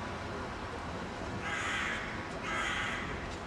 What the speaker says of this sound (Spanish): Se siente gritar un cuervo.